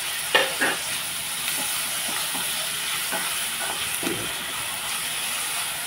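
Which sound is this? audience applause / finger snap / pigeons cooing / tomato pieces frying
tomato pieces frying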